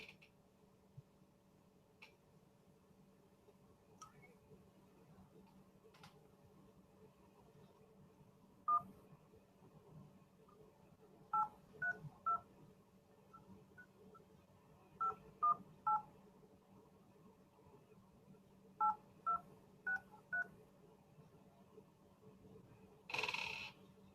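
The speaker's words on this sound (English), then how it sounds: "We're going to go ahead and call the next caller." Touch-tone keypad beeps as a phone number is dialed to reach a sales prospect, with short groups of crisp tones separated by pauses over a faint steady hum in a quiet room.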